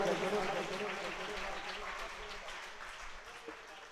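A worship congregation at a Nakodar church meeting claps loudly in praise, a dense, steady patter that starts strong and gradually eases off, with voices mixed in underneath.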